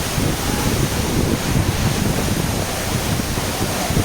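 Rushing water at Godhas waterfall in Nuapada, Odisha, heard from below the falls as a loud, steady, broadband roar with wind buffeting the microphone throughout.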